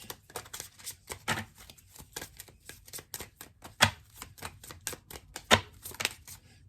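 Oracle cards are pulled and shuffled from a deck, giving a run of dry, rapid papery flicks and taps with a couple of sharper snaps standing out, close by and with no voice.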